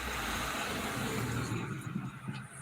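A small white car passes close by and turns around, its engine a steady loud road rumble with tire noise.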